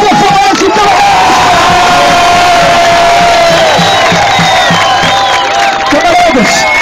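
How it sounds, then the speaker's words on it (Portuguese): A loud, close crowd cheers and whoops with clapping throughout, voices rising into sustained shouts over a dense, continuous wall of noise. "Uma salva de palmas para o Falante, então!"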